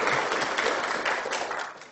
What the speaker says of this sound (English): thanks, great applause